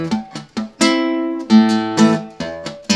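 An acoustic guitar plays the short Barnyard Strut lick, with dead-string muted thumps and ringing fretted double-stops in a bouncy, uneven rhythm that ends on a sustained chord, played alone and close.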